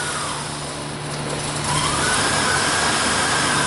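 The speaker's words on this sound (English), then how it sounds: "that made the engine stumble severely" Idling Honda Odyssey engine with an EGR valve fault, a steady mechanical drone that shifts and roughens midway as the engine stumbles, heard close with no talk.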